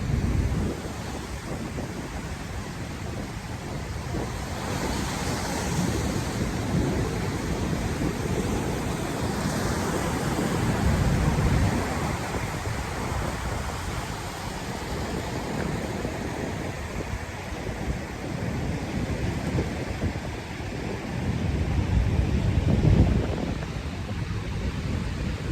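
Ocean surf rolls in and breaks at Kirra Beach in Queensland, Australia: a steady, dense roar of water that swells into louder surges every several seconds.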